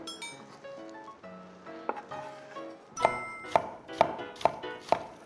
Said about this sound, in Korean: 양배추는 잘게 썰기가 쉽지 않다. 몇 번 왔다 갔다 해야 되겠다.